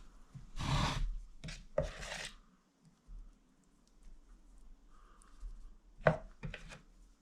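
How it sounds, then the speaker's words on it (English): Spoon wiggled through wet plaster in a mould for bronze casting, a few quiet scraping and sloshing bursts separated by near silence, close but faint. "Just by wiggling the spoon about on the plaster, it kind of liquefies it a bit"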